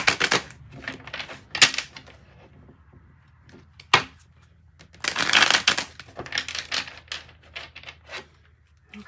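Osho Zen Tarot cards being shuffled by hand, with bursts of riffling, slapping and sliding card noise that come and go at close range, the loudest run lasting about a second, alone without talk.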